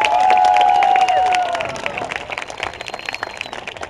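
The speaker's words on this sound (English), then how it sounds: "Come on, give her a big round of applause." Fairground audience at the Altamont Fair bursts into applause and cheers, loud at first with a whistle-like cry, then thinning into scattered clapping.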